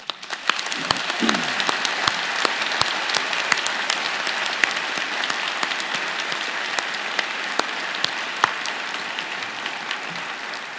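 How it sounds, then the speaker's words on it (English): Convocation audience at a Rotman Commerce graduation gives sustained, vigorous applause for graduates' friends and family, dense even clapping filling the hall for about ten seconds with a few louder claps standing out. "join me in the platform party in thanking them with a vigorous round of applause"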